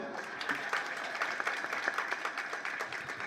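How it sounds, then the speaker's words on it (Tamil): A crowd at a Tamil public tribute event claps on cue, a fairly faint but steady spatter of many hands with some sharper individual claps standing out. "கைத்தட்டுங்க பார்ப்போம்"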